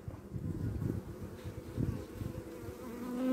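Honeybees hum and buzz steadily up close at an open hive, a dense droning swarm with wavering pitch and no voices.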